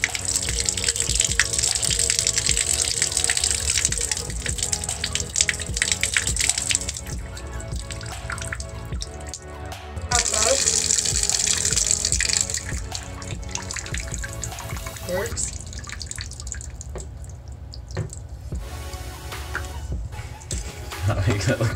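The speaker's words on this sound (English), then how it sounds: "Now let's test it for the water flow." Water gushes from a bathtub tap fitted with a homemade stopper, a loud steady splashing flow that cuts off briefly and resumes, with a voice talking at points.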